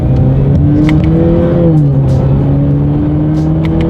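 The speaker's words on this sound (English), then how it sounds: "let's do that acceleration and see how quickly we can get this 2019 Camaro up to speed" A 2019 Chevrolet Camaro Turbo accelerates hard, its engine note droning loud and steady from inside the cabin, with the pitch sweeping up through the gears and dipping at each shift.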